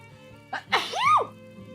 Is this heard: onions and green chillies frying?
no